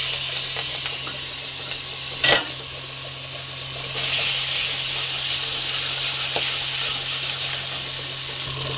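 Nigella seeds sizzle steadily in hot hilsa fish oil, a close, continuous bright hiss and crackle with a faint low hum underneath and a single sharp tap partway through.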